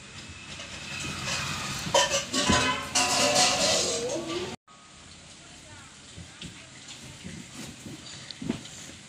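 Cauliflower fries in oil in a pan for a vegetarian paneer curry, giving a steady crackling sizzle that is loud at first, then briefly cuts out and returns softer, with a voice speaking over it.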